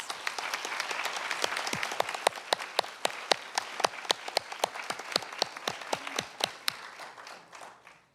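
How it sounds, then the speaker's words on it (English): Applause from a sparse audience at a college graduation ceremony: distinct individual claps in a fairly regular rhythm, fairly close, fading out near the end. "Please join me in giving Assistant Deputy Mayor Guzman a warm round of applause."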